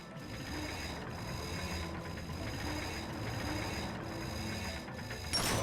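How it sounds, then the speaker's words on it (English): Mechanical whirring and ratcheting of a bolt crank being spun in the Ratchet & Clank game, a steady grinding hum with rhythmic dips about once per second, faint and without speech. "Get on that bolt crank. Come on, give it a spin."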